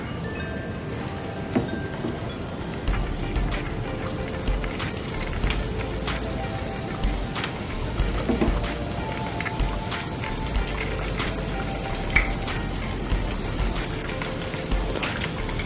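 Evening snacks fry in hot oil with a dense, steady crackle and scattered sharp pops, close and even throughout.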